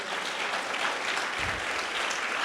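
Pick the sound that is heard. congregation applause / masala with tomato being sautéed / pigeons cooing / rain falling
congregation applause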